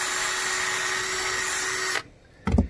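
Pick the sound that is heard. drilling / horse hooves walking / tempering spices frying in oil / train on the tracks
drilling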